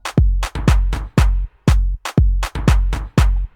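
Afro house drums: a punchy straight kick thumps steadily in an even four-on-the-floor pattern, loud and close, with sharp attacks and short decays, no other voices or instruments.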